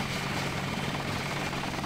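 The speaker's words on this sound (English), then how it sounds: "Get to the chopper!" Helicopter departing in the video game Deus Ex, a loud continuous rotor and engine roar that stays steady and fills the whole stretch, with no talking over it.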